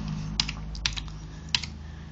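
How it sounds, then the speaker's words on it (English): A few sharp, separate clicks on a computer keyboard, three or four distinct taps spaced over a couple of seconds above a low steady hum, close and fairly quiet with no talking. "you have the editor, you just type whatever you want"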